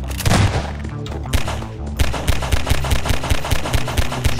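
Rapid bursts of gunfire from a video game, loud and close, with a dense opening volley followed by a steady run of evenly spaced shots.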